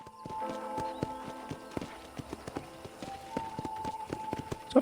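Horse hooves gallop in Red Dead Redemption, a rapid run of sharp clip-clops at moderate volume with a quieter game-world backdrop underneath.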